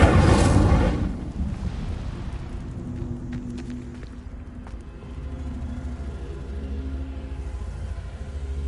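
Incendio fire spell cast in Hogwarts Legacy: a loud burst of flame at the start, then a fading rumble with a few sharp crackles.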